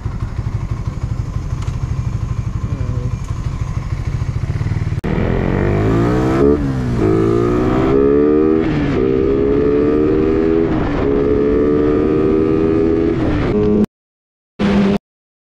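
A motorcycle with an open carburetor and open throttle body revs hard and climbs through rising pitches, loud and close, over a steady idle at first, then cuts off abruptly near the end before a short final burst.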